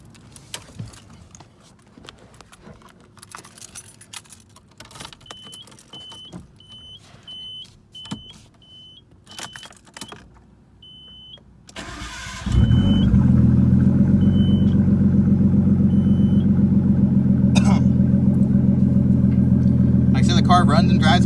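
A turbocharged Nissan Skyline GTS-T cranks and fires at about twelve seconds, settling into a loud, steady close-up idle. Before the start, quiet clicks and faint shuffling can be heard.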